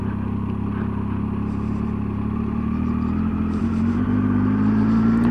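A 2018 Triumph Tiger 800 XRT rides downhill through a hairpin in second gear with a touch of back brake, its engine a close, steady drone whose pitch climbs slightly toward the end, with no talking.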